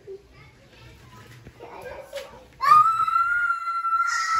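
Small children play indoors at home, with soft chatter and movement at first, then a loud, sustained high-pitched shout or squeal that carries on close by for several seconds.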